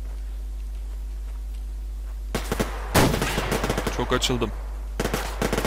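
Automatic gunfire rattles in the shooter game Survarium in loud, rapid bursts after a quiet lead-in, with one heavy close shot and more short volleys. A voice speaks briefly over a steady low hum.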